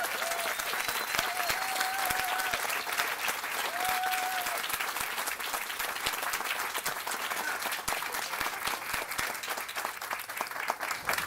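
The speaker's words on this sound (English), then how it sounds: "Let's give them a round of applause." Wedding guests applaud, a dense, steady round of clapping filling the room at moderate distance, with a faint voice or tone briefly audible underneath early on.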